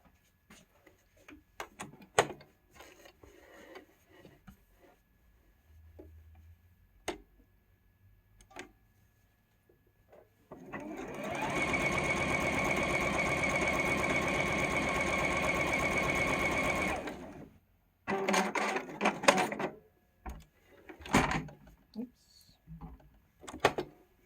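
A sewing machine stitches a quilt-as-you-go block in one steady whirring run of about seven seconds, with clicks and handling noises of fabric and the machine before and after, a voice talking at times.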